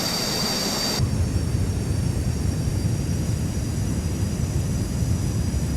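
A G39 Griffen jet in steady flight in Microsoft Flight Simulator 2020 gives a constant loud engine roar with a rumbling low end, holding even throughout after a brief louder start.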